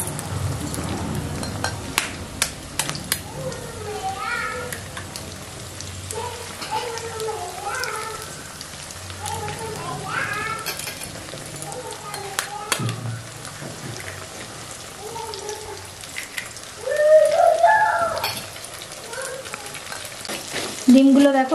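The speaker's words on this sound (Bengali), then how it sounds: "এবার এই ডিমগুলো আমি ভালো করে ভেজে নেব" Eggs and onions fry in a pan for chowmein, giving a soft, continuous sizzle with stirring scrapes while a person talks over the cooking.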